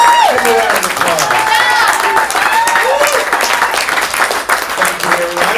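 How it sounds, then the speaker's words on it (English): Comedy club crowd at a stand-up showcase claps steadily, with some cheering and voices mixed into the dense applause throughout. "Give him a round of applause."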